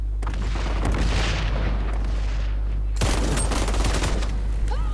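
Grenade blast in XDefiant, a dense crackling burst of explosions and gunfire that starts abruptly, holds loud and steady, then cuts and resumes with a second burst around the three-second mark, with no talking over it.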